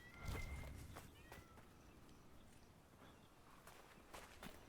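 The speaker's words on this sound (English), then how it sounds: "I swear I heard like a cat going meow" A cat meows faintly a few times in a spooky mansion level of a video game, against quiet ambience with soft footstep-like thuds.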